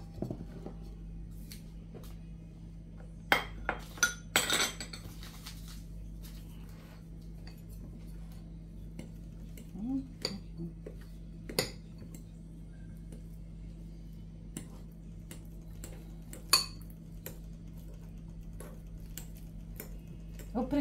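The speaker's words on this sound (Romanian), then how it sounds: "Așa, și am să zdrobesc bananele." Bananas are mashed in a bowl for banana pancakes, with sparse clicks and taps of a utensil against the bowl over a low steady hum, close but fairly quiet.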